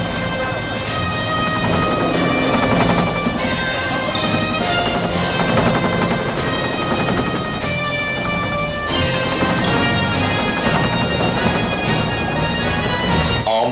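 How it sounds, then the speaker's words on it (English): Helicopter sputtering as it comes in to land in a Rambo: First Blood Part II film scene, a loud continuous rotor and engine drone mixed with dense soundtrack music and effects. "I love how the helicopter's like sputtering as it comes in."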